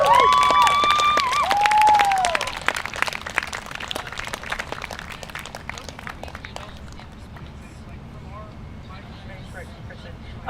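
A rally crowd at a National Day of Action for Higher Education event at UHM breaks into applause and cheering, loud and dense at first with a few whistles, then thinning to scattered clapping and murmur.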